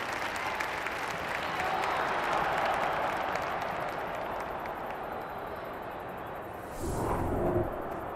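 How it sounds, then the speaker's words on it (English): A stadium crowd in an AFL women's football video game keeps up a continuous roar and applause as the captains meet in the middle, with a brief swell near the end. "The crowd already making plenty of noise as the captains come together in the middle."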